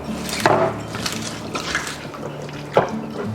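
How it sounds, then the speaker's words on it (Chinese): A little water is added to sliced ginger and scallion segments and worked by hand into ginger-scallion juice: a soft, continuous wet swishing with two sharper splashy squelches, close by, with no talking. "加入少量清水抓泥"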